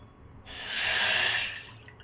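About a cup of water is poured into a hot pan on a stove flame, giving a brief, moderately loud hissing sizzle that swells and fades within about a second.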